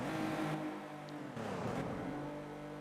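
Porsche race car engine from the Need for Speed Porsche Unleashed video game on the Monte Carlo circuit, a steady loud drone with a slight shift in pitch midway, running continuously with no talk.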